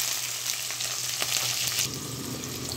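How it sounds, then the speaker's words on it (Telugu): Onions frying in hot oil inside a preheated clay pot for mutton, giving a steady close sizzle with occasional crackles and light stirring scrapes, with no talking over it. "సో దీంట్లో ఇప్పుడు మనం ఆనియన్స్ అనేది వేసి ఫ్రై చేస్తున్నాం."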